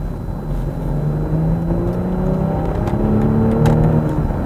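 A 2023 BMW X5 40i SUV engine in sport mode, droning loudly and steadily with a rising, whirring rev that holds close throughout.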